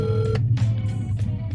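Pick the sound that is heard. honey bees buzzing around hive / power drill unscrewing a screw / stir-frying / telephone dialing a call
telephone dialing a call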